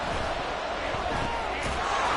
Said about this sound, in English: the crowd here at MetLife Stadium in full roar